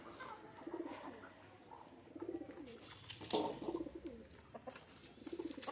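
Pigeons coo softly in repeated low phrases at a backyard spot where chickens are kept, several coos spaced across the stretch, faint and somewhat distant, with a brief flutter-like burst midway.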